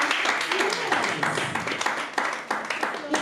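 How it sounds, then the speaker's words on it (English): Audience at a food-systems startup demo day claps together: a moderately loud, choppy patter of hands with distinct individual claps and uneven rhythm, voices faintly mixed beneath. "you don't want to give yourselves a clap"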